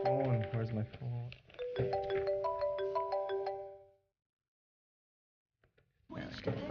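Melodic mobile phone ringtone plays a clear rising sequence of tones, mixed with a voice at first, then stops, followed by a pause and more sound at the end.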